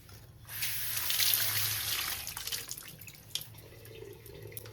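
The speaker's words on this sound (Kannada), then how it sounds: "ನೀರೆಲ್ಲ ಸೋರ್ತಾ ಇರಲಿ." Water drains from freshly washed eggs and chicken pieces for a home-style egg and chicken sambar. A splashing pour swells close by, then thins into trickles and scattered drips, with no talking.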